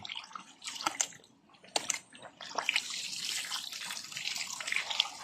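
Water gurgles and splutters through a ram pump pipe in irregular bubbling bursts, close and fairly quiet, as trapped air pushes through.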